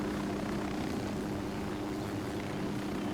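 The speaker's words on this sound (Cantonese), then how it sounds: "攞咗架壞直升機，冇辦法" A damaged, smoking helicopter in the video game Ghost Recon Wildlands drones with a steady, continuous engine and rotor rumble, moderately loud and unchanging throughout, with no speech over it.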